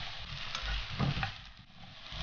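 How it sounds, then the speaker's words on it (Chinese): Winter melon and dried shrimp stir-fry in hot oil in a wok, giving a soft, steady sizzle with a brief scrape of stirring partway through. "把冬瓜也煸了一下"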